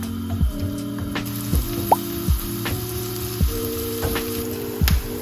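Onion, garlic and ginger frying in a pan while being stirred with a wooden spatula, cooking for a Korean spicy pork dish: steady close sizzle with repeated soft scraping and knocking strokes, no talk.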